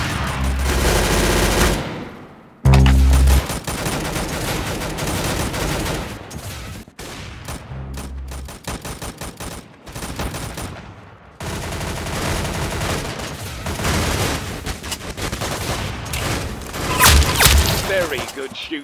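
Gunfire in the Arsenal video game crackles in loud bursts and rapid volleys with heavy booms, nearly continuous with brief gaps, while voices talk over the shooting.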